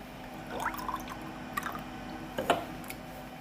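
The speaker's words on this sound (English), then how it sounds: "I'm going to uncork and I will pour this out" Cider poured from a freshly uncorked bottle of an old grafted-tree cider apple variety, giving soft gurgles and a few drips close by, with a brief louder splash near the end; no voices.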